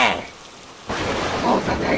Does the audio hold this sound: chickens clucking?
no